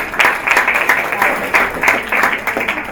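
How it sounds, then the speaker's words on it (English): A round of applause from the audience at a business launch event, loud close clapping with uneven bursts that carries steadily throughout. "Round of applause."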